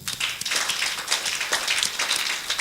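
A church congregation claps and applauds for the Lord, a dense run of overlapping hand claps at moderate loudness that carries on throughout.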